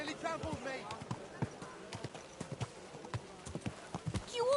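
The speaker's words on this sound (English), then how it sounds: "Your horse nearly trampled me!" Horse hooves clip-clop in a steady irregular patter on a hard surface, fairly faint and close, with a voice speaking briefly near the start and end.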